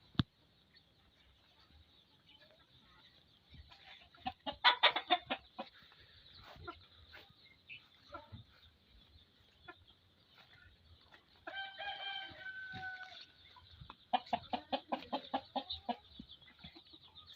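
Quiet chickens clucking in scattered bursts, with a rooster-like call partway through, over a faint steady background hum.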